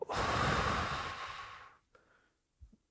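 A long, deep breath is drawn in and slowly exhaled close to the microphone, a steady airy rush fading out, followed by a couple of small soft breath sounds.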